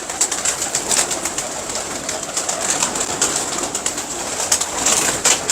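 Many pigeons cooing and fluttering together at a rooftop loft in Lahore, a dense, continuous flock sound close by, with scattered wing flaps and shuffling.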